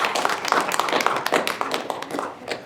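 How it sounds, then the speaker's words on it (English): A small group claps for newly introduced youth council officers at a meeting; the sharp, uneven hand claps stay fairly close and steady for a few seconds, then begin to thin out. "Go ahead and give them a round of applause."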